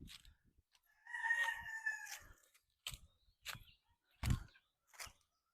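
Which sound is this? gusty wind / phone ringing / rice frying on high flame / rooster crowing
rooster crowing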